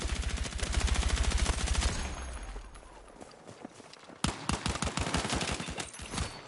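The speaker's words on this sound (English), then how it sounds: "Gotta shoot right here, right here." Bursts of gunfire from the shooter game Battlefield 6: a rapid automatic volley at first, then quieter sporadic shots, then loud sharp single shots in quick succession, with faint game background.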